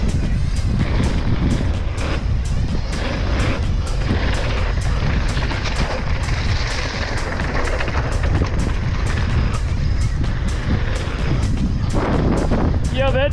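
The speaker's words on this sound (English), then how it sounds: "Bit windy today." Steady, loud wind buffeting a microphone at the Châtel bike park, a constant low rumble throughout with brief faint voices.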